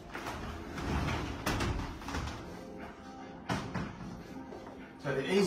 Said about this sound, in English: a combination of a sliding door and a bifold door.